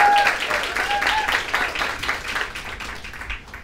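Audience at a 2012 campus groundbreaking ceremony applauding, a steady wash of many hands clapping that starts strong and slowly tapers, heard fairly close with no talk over it.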